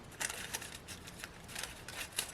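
Scissors snipping excess paper away from artist trading cards, a series of short, crisp cuts in an irregular rhythm, close and quiet.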